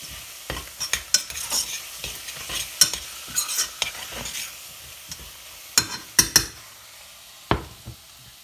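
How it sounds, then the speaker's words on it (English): A spoon stirs two tablespoons of mustard into a paste in a pan for a bean and squash stew. Irregular close scrapes and clinks against the pan come over a faint sizzle, and there is no talking. "just stir that all together to form a sort of paste before putting it back on the heat"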